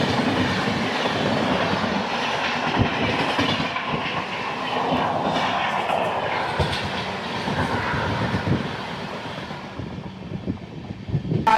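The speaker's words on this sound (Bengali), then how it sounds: "তারপর ট্রেন ছুটছে" Black Diamond Express passenger train running from Howrah toward Dhanbad, heard from inside a coach: steady loud rumble with clickety-clack wheel beats and occasional rattles, continuous throughout with no talking.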